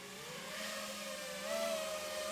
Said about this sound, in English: First time hearing the motor, I hope it flies.